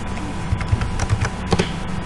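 Fingers type on a computer keyboard during a Word 2016 lesson, a brisk, close run of clicking keystrokes with a few louder taps, no talking.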